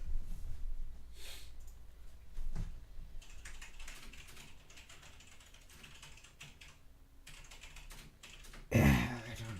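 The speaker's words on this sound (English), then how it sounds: "loud epic keyboard" A computer keyboard clatters in rapid irregular bursts of loud typing, close to the microphone, with pauses between runs and a sharp noisy burst near the end.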